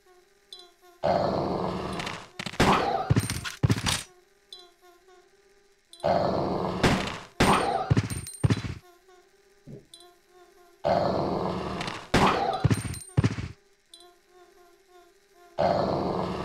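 Dogs in Resident Evil Code Veronica X snarl and growl in three loud bursts separated by short quiet gaps, each burst packed with rough guttural snarls and sharp barks.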